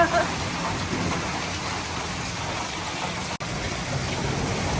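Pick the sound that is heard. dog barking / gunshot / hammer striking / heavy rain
heavy rain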